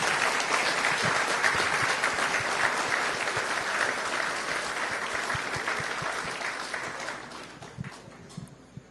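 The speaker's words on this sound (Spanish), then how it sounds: "Creo que él se hace merecedor de otro fuerte aplauso." Sustained audience applause for a lecturer after a talk on international politics and integration treaties at a university, a dense steady clapping that runs the full length and thins slightly toward the end.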